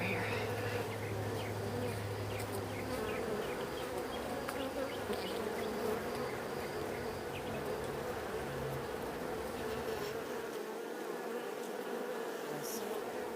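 Honey bees hum in a dense, steady drone around a beehive, a continuous close buzz with no talking.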